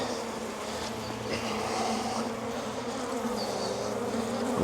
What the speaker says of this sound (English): this is absolutely rammed with bees